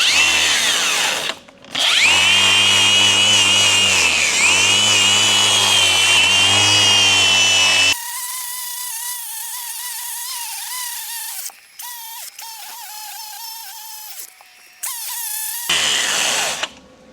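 A cutting wheel grinds through metal along a vehicle frame, a loud, high screaming whine that dips and surges for about eight seconds, then continues in shorter, quieter bursts separated by brief pauses.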